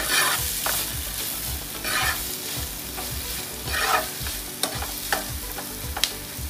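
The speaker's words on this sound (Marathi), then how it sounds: "कांदो परतला म्हणजे कांदो बेगी भाजून येता" Onions sautéing in a pan for a Goan chicken chilli, a spoon stirring them in repeated scraping strokes over a steady sizzle, with a few sharper clinks near the end.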